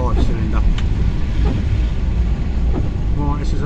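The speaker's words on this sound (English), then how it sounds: "Oh, listen to that lovely engine. Oh, I love a 5-cylinder." A five-cylinder car engine rumbles on a road in rural Scotland, a low steady drone beneath wind noise while a person talks over it.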